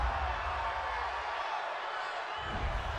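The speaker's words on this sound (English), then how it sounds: "this crowd does not like that call" Football stadium crowd at a Detroit Lions versus Green Bay Packers game reacting to a penalty call, a steady broad roar of many voices with a low rumble swelling again near the end.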